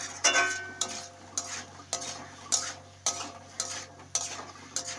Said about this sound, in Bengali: আর এদিকে আমার মশলা কষানো হয়ে গেছে, কষানো কমপ্লিট